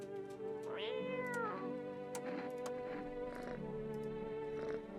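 A cat meows inside a horror video game, a close, drawn-out mewing cry with rising and falling pitch, followed by softer calls over a low steady background hum.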